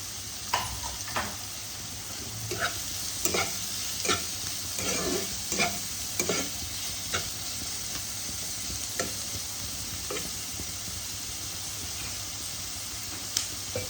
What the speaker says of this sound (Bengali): আদা রসুন পেস্ট দিয়ে দিলাম